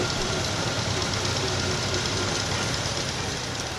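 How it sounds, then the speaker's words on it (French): A 1952 Massey Harris 22 tractor runs steadily in a St-Jean-Baptiste parade while pulling a hay mower, its engine a continuous rumbling drone that is close and fairly loud throughout, with no pauses. "Celui-ci est un tracteur Massey Harris 22 forces de 1952 qui tire un moulin à foin ou une faucheuse à foin."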